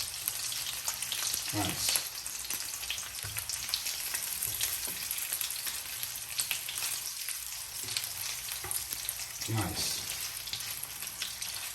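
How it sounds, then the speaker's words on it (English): Italian meatballs browning in a frying pan give off a steady, close sizzle with occasional stirring and turning sounds, while a voice briefly speaks over it. "Now that I'm finished browning my first batch of meatball"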